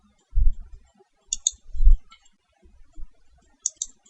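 Computer mouse clicks while operating PowerWorld load flow software for a three-bus system: a few sharp, close clicks spaced across a few seconds, some in quick double pairs, over quiet low room thumps.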